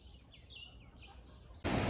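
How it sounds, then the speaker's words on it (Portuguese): Birds chirp faintly at Sancho beach on Fernando de Noronha, a few thin calls over quiet background before a sudden burst of loud noise cuts in at the end. "só para o som dos pássaros"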